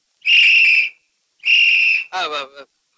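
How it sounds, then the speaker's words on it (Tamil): A whistle gives two shrill, steady blasts close by, each about half a second, then a shorter wavering trill. "விசில் எனக்கு ரொம்ப பிடிக்கும்"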